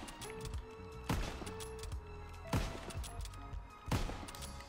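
Springfield bolt-action rifle fired in Call of Duty WWII, three sharp loud shots spaced roughly a second and a half apart, each with a short echoing tail over a bed of game ambience.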